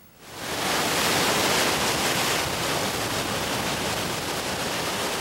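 Ocean surf on Australia's Sunshine Coast, known for strong waves, swells up quickly into a loud, continuous rushing roar of crashing waves, broad and hissy, with no voices.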